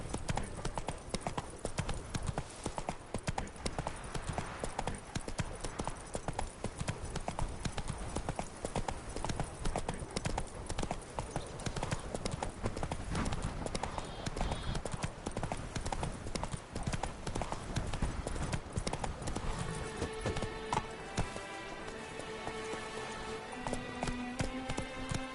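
Roach, a horse in The Witcher 3 video game, gallops with steady, loud clip-clop hoofbeats throughout, over a dense game soundtrack; near the end, plucked tonal music rises as the hooves ease.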